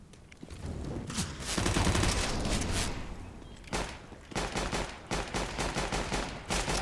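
Gunfire in the video game CS:GO: dense, rapid bursts of shots that pause briefly, then return as close, crackling volleys, loud throughout.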